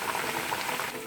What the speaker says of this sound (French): Vous mettez les morceaux de plantain dans l'huile chaude